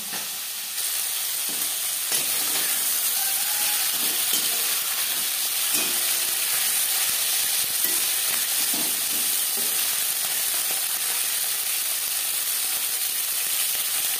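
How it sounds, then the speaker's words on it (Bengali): Pakal eel fish fry in hot oil in a kadai, giving a continuous loud hiss and crackle with occasional faint scraping stirs underneath, steady from start to finish. "পরের মাছ একইভাবে ভেজে নেব।"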